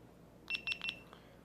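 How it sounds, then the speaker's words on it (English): Three short electronic beeps in quick succession from a GoPro Hero 7 Black powering on, high-pitched and fairly quiet, followed by a faint fourth blip. "Makes a beep sound."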